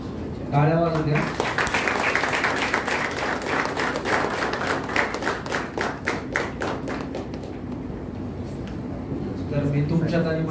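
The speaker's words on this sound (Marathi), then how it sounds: "टाळ्या वाजू द्या." An audience at a public felicitation event breaks into sustained applause, a dense wash of clapping that fades after several seconds, with a voice speaking briefly at the start and end.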